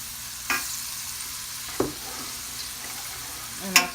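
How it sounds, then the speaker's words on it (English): Rice being stirred in a pot of salted boiling water on a stove, a steady bubbling hiss with a few brief scrapes and clinks of the spoon against the pot. "And I stir it."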